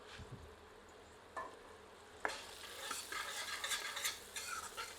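Tomatoes and spices stir-fried in a pan over medium heat for a squash curry, with a soft continuous sizzle and scraping spoon strokes, quiet and close, no talking.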